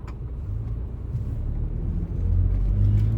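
Low, steady road rumble of cars going past, swelling louder toward the end as a vehicle draws nearer, with no talking.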